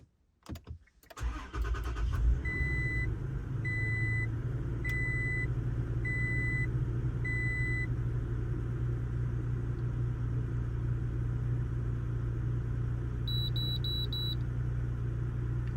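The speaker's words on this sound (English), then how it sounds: "Maybe I need to start engine, because last time when it read it, I start the engine." A 2019 Toyota Tacoma engine starts with a brief crank, then settles into a steady, close idle rumble, while repeated electronic dashboard beeps chime over it.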